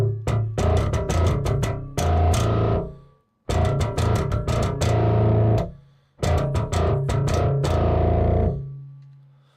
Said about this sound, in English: let's turn on the distortion